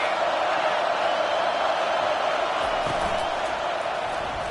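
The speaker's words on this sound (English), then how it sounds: "This crowd bringing the energy and noise early." Crowd noise fills the stands at a UATX vs UNG college football game, a constant wash of cheering and shouting that holds level across the moment without breaks.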